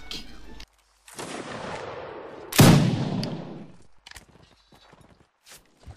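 Musket volleys from a Mount and Musket line battle crack with heavy, echoing reports, the loudest blast near the middle, followed by scattered softer shots and noises. A voice talks briefly in French.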